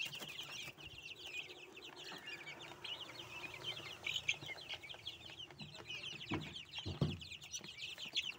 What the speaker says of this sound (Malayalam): അപ്പോൾ ഇതാണ് വിൽപ്പനയ്ക്കുള്ള കോഴികൾ.